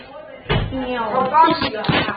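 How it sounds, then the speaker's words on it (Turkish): A door shuts indoors with a single dull thud, followed by a voice speaking over faint room noise. "Lütfen kapıyı kapatın."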